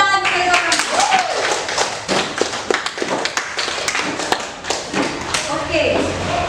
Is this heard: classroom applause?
yes